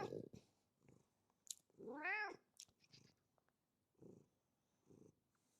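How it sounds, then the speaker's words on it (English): A domestic cat purrs in short, soft low rumbling bursts, with one clear rising-and-falling meow in the middle, close to the microphone in a quiet room. "You can hear him purring."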